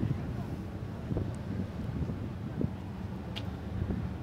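Steady wind buffets and rumbles across the microphone beside the Bosphorus on a chilly day, with boats on the water nearby and faint voices underneath.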